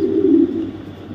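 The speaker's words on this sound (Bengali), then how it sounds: "আগুন চোখের একটা মাদি কবুতর" An imported female racer pigeon gives a brief, low coo up close, a single throaty rolling call that fades quickly.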